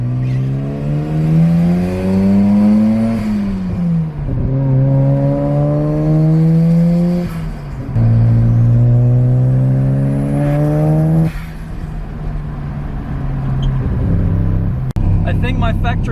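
Nissan Skyline R33 drift car engine revving hard while driving, repeated rising pulls through the gears with brief drops between shifts, loud and close, ending in a short sharp crack.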